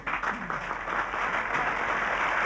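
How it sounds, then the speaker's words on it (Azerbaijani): Studio audience applause on an Azerbaijani television game show, a dense, continuous clapping that swells slightly and holds steady throughout. "Xahiş edirəm, alqışlayın bu."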